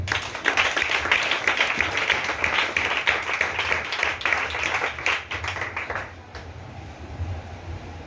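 A church congregation claps together in dense, sustained applause that fills the room for about six seconds, then drops away to quieter room noise.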